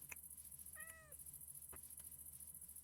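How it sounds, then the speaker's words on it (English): A single short cat meow from a video game, faint against a steady background hum, with no voices present. "Did I just hear a cat?"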